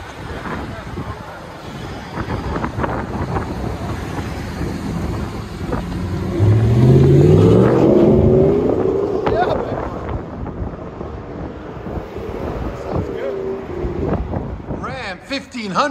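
A 2016 Ram 1500 5.7L HEMI with 5-inch exhaust tips and the resonator still on rumbles while driving and surges in one strong rev midway, with wind buffeting the microphone and people talking.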